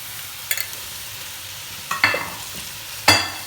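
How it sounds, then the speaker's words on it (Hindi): Half a kilo of beef keema fries in a pan with garlic and ginger under a low steady sizzle, broken by three sharp scraping stirs spaced about a second apart. "इसको अब हम इसकी भुनाई करेंगे जब तक कीमे का कलर चेंज ना हो जाए"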